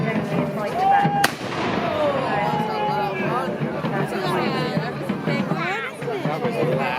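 A cannon fires at a reenactment of the Battle of Nantwich, a single sharp blast early on, heard at moderate distance over an outdoor crowd's steady chatter and nearby voices talking.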